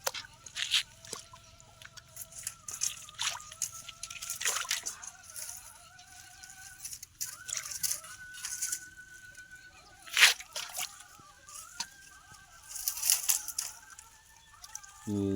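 Water is poured and sloshed out while people catch fish outdoors, with intermittent splashes and trickles that swell in short bursts, a bird calling faintly in the background.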